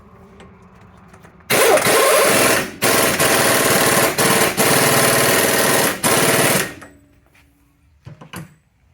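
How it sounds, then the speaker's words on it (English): Front axle nut on a 2008 Nissan Titan being run down and tightened during a wheel bearing replacement, a loud, close mechanical rattle that holds for about five seconds with a few brief breaks, then stops. "put the axle nut back on"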